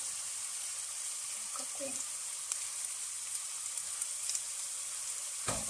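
Garlic sizzling in oil in a frying pan, with a steady, faint hiss running throughout and a few brief clinks near the end; a voice speaks briefly.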